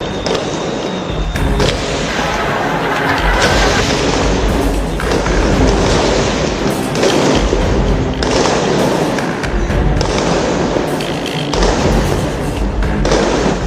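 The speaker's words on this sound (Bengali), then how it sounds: "গুলি টিয়ার শেল সাউন্ড গ্রেনেডের মুহুর্মুহু শব্দে রাজধানী ঢাকা পরিণত হয় আতঙ্কের জনপদে" Loud booms and heavy thuds burst out again and again in rapid, irregular succession, echoing like gunfire and explosive blasts: gunshots, tear gas shells and sound grenades during street unrest in Dhaka, Bangladesh.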